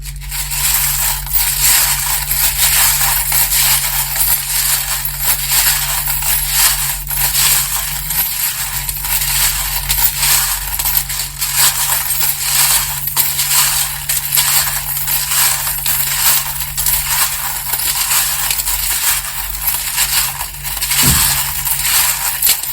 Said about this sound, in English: turn down your volume now if you don't like the sound of the charms. They can be very loud.